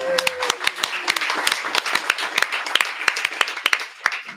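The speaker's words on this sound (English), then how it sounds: "hold your applause because we have another round of applause coming right after that" An audience applauds at a bookstore event, steady clapping from a moderate crowd with scattered sharp claps, a brief voice heard at the start.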